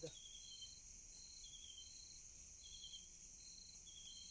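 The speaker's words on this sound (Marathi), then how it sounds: "रातकिडे ओरडत आहेत याचाच आवाज आहे फक्त" Crickets chirp steadily in a quiet night, a faint high-pitched trill repeating in regular pulses over soft background hiss, with no voices.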